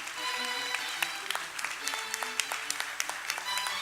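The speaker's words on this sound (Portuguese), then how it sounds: "eu queria desejar uma salva de palmas aqui para Sônia Peçanha" A small gathering at a community project event in Brazil gives a round of applause, with scattered, distinct handclaps popping over a murmur of voices and a faint tonal background.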